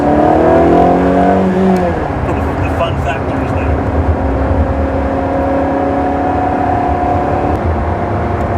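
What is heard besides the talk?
Ferrari 360 Challenge Stradale engine revving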